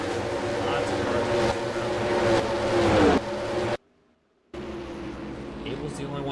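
Race cars roaring past on a road course at Watkins Glen in NASCAR Racing 2003, a loud continuous engine drone with a downward pitch sweep, cutting out briefly before resuming, with a voice commentating over it.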